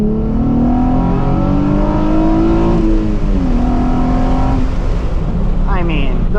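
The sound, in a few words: Nissan 350Z Rev Up engine revving while accelerating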